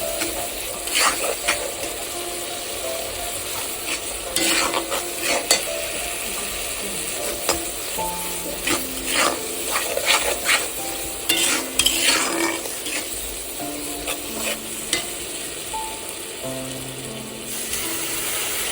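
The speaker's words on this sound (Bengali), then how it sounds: "একটু জল দিই, মশলাগুলো আস্তে আস্তে কষাতে থাকবে।" Spice paste being stirred and fried with a splash of water for a tangra fish curry with aubergine and potato, a steady sizzle under frequent metallic scraping and clinking of the spoon against the pan.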